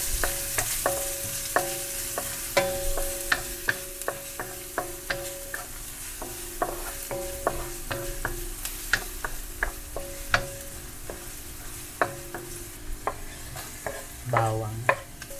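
A little oil and onion frying for Chinese fried rice, with a soft continuous sizzle broken by regular sharp clicks and scrapes of a spatula against the pan and a louder scrape near the end.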